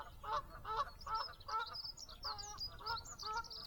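Geese honk repeatedly near reeds by the water, a steady run of rough calls overlapping one another at moderate distance, faint against a low outdoor rumble.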